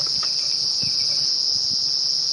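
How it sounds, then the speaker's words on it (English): Cicadas call after morning rain on a safari drive, a steady, shrill, unbroken drone that fills the whole stretch, with faint low rumbles underneath. "cicadas have come out of the ground, some of them, and you can hear them calling."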